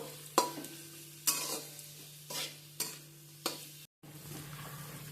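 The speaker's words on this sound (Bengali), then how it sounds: "হালকা করে আমি পেঁয়াজটা ভেজে নেবো" Chopped onions with a pinch of salt fry lightly in oil, the steady sizzle broken by five or six distinct scraping stirs of a spatula against the pan at regular intervals, close and moderately loud, with no talking.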